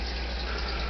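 Hot water pouring steadily into a container in a home kitchen, a continuous close rushing gush with no talk over it.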